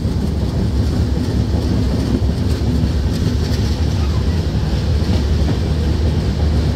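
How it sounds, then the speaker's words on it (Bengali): Madhumati Express train rolling into Padma station, heard from on board as a loud, continuous low rumble of wheels and carriage noise with no break. "ট্রেনটি প্রবেশ করছে পদ্মা স্টেশনে"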